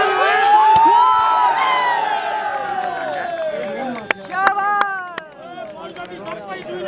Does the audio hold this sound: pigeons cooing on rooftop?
no